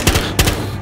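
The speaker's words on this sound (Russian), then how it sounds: "Откуда эти ребятки шмаляют?" Gunfire in Battlefield: Hardline, two quick double-shot bursts, loud and close, with no talk.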